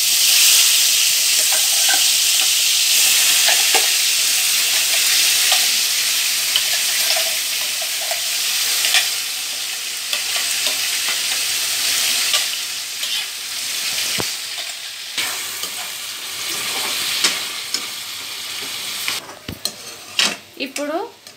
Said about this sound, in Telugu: ఇప్పుడు దీన్ని ఒక 15 మినిట్స్ వేయించుకోవాలి।